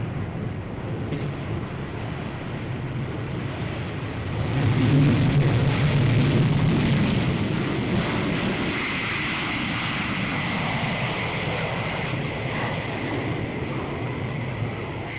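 Boeing B-47 Stratojet bomber jet engines roar steadily after the throttles are opened, a loud continuous rumble that swells around the middle and holds, with a faint high whine above.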